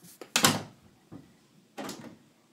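Doors in the video game Five Nights at FatBears open and shut: three separate thudding, sliding bangs, close and fairly loud, the first strongest, separated by brief silences.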